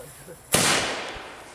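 Firecrackers and fireworks going off on New Year's Eve: one sharp loud blast at about half a second, then a long crackling, hissing decay, with a faint thump near the end.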